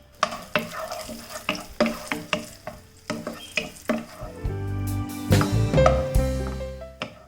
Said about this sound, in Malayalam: കാഷ്നട്ടും കിസ്മിസും ഞാനിവിടെ റോസ്റ്റ് ചെയ്ത് എടുത്തിട്ടുണ്ട്